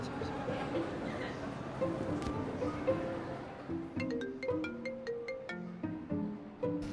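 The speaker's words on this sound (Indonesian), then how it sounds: "Ini sekarang Iren mau telepon Mbak Gista, Iren mau laporan." A phone ringtone sounds near the end, a repeating series of bright electronic tones over faint background noise after a stretch of quieter room sound.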